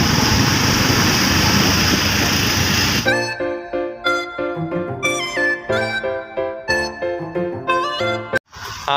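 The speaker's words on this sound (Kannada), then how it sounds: "ಇವರು ಬೈಕ್ ಆಫ್ ಮಾಡ್ತಿದ್ದಂಗೆ" A motorbike engine runs with a loud, rough drone for about three seconds, then cuts off and gives way to rhythmic tonal beeping sounds.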